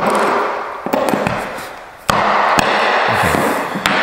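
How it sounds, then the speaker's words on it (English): Wooden carpet gripper strip is broken and pried off the floor by hand to expose its nails, giving a series of sharp close cracks and knocks amid scraping and rustling handling noise. "now I can just break it off and have access to the nails"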